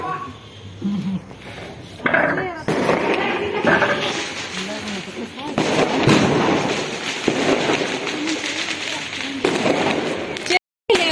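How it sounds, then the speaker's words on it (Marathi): Diwali firecrackers burst repeatedly during a 2021 Laxmi Poojan celebration, with loud, dense cracks and pops close by and steady voices talking and calling out throughout. "फटाकड्यांमधलं सगळं झालं का? संपले का सगळे बॉम्ब?"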